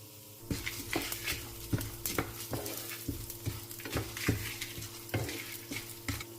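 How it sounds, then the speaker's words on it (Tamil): Pepper, cumin, fennel and a single dried chilli dry-roast in a pan, with a quiet rattle of spices and repeated scraping clinks of a spoon against the metal, without voices. "இந்த டைமில் நம்ம மிளகு, சீரகம், சோம்பு, அதுக்கப்புறம் ஒரே ஒரு காஞ்ச மிளகாய், இது எல்லாத்தையும் போட்டுட்டு வறுத்துடலாம்."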